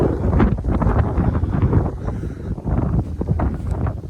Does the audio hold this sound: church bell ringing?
no